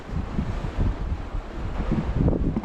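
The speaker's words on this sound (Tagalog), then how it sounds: "Lakas ng hangin ano." Strong wind buffets the microphone in heavy, low rumbling gusts, continuous and loud with no voices.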